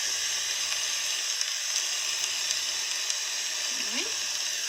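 Collard greens sizzling in a pan as they are stirred, a steady bright hiss of frying close up, with faint handling noises underneath.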